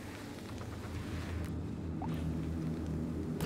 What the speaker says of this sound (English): On the plus side, it's raining.